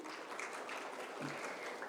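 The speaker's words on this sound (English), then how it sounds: "Can we have a big round of applause for Mr. Chatterji?" Audience applause for a speaker at a business leadership talk, a steady wash of many hands clapping, fairly faint and distant, with no speech over it.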